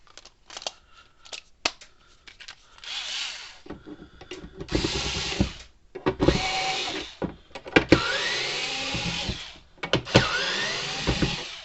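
A cordless drill removing screws from a solar fence charger whirs in several short bursts and longer runs, with pauses and small clicks between, close by and fairly loud.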